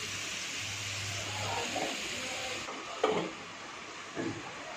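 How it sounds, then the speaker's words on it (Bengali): Potato and ridge gourd frying in hot oil with black cumin seeds and green chillies, a steady close sizzling hiss with a few light clatters from stirring. "এই আলু আর ঝিঙেটাকে হালকা করে ভেজে নেব"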